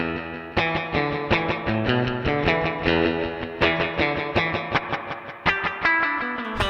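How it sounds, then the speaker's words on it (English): An electric guitar is played through an echo verb effect pedal, strummed chords and picked notes ringing out in a steady rhythm with distortion and long echoing tails. "Echo verb."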